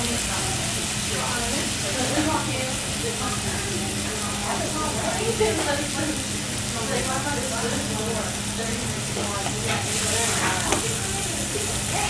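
Tomato slices sear on a hot griddle for grilled cheese, giving a steady close sizzle and crackle with faint popping throughout, under a low hum.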